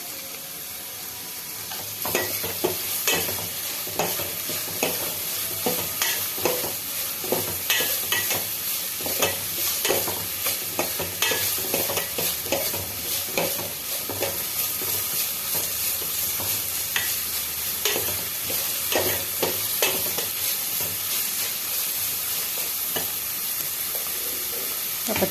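Onions sizzle in hot oil over a raised flame for an onion-tomato egg curry, stirred with a spoon in repeated scraping strokes over a constant crackling hiss.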